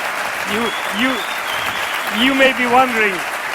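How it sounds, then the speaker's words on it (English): Rapid hand clapping sounds close by while someone talks over it, the claps forming a quick, even patter. "you may be wondering why I'm clapping"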